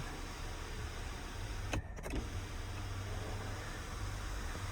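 The power sunroof motor on a Chrysler Pacifica Limited whirs briefly, a short faint electric buzz lasting under a second, set against a steady quiet cabin hiss with no talk.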